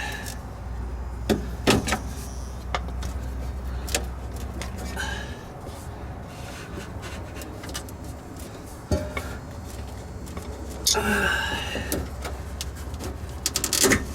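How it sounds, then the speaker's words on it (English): A flathead screwdriver pushes hose clamps off a vapor canister on a Pontiac Vibe or Toyota Matrix, giving scattered metallic clicks, scrapes and knocks up close over a low background hum. "I'll take my flathead and kind of just hit the edge and push them off"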